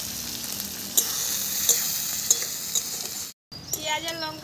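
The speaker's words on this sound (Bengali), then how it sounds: "এদিকে লঙ্কা রসুনটা কিন্তু লাল হয়ে গেছে, পেঁয়াজ আর কাঁচা লঙ্কাটা দিয়ে দিলাম।" Sliced onions and green chillies fry in a pan with already reddened chilli and garlic, a steady close sizzle with a few soft stirring clicks, cutting out briefly near the end before sizzling resumes.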